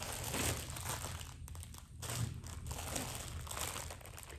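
Plastic packets from a bag of two hundred crinkling and rustling as they are handled close by, a continuous soft crackle with a brief lull partway through.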